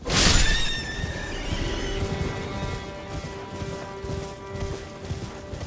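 A horse ridden through the Mistwood region of Elden Ring gives a loud whinny at the start, then hoofbeats continue under a sustained musical tone.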